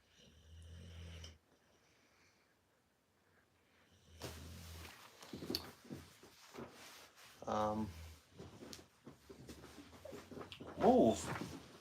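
A dog whimpers indoors, giving a couple of brief, high whining squeals scattered between voices talking and shuffling household noise.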